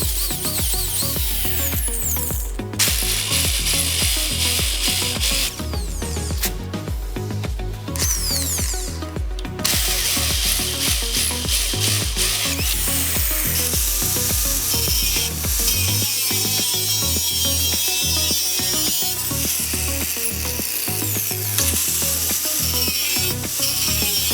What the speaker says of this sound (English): Drill holes in strips for bushings. First use 6mm then 11mm drill bit.